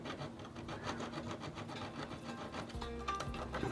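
Fine 1000 grit abrasive rasps in quick, rhythmic back-and-forth strokes over model railway rail heads, a soft, close scrubbing sound that stays quiet throughout.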